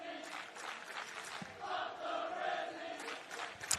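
Crowd cheering and shouting at a men's gridiron football final at Ballymore, a sustained broad roar of many voices rising and falling from a distance with a sharp shout near the end.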